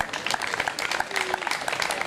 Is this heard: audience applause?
yes